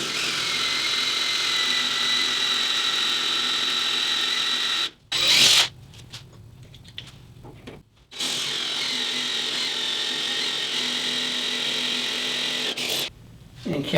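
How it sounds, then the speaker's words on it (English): Power drill boring holes through cast iron, a steady high whine running for several seconds, breaking off twice for brief pauses before resuming, with a voice talking over it. "Now I'm drilling through the cast iron, which drills pretty easy"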